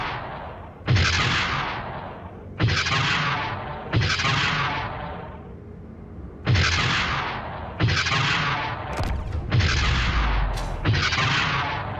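Concussion turrets in the Space Engineers video game fire a string of heavy booming blasts, about eight in all, at irregular intervals, each sharp and loud with a long decaying tail and no voices.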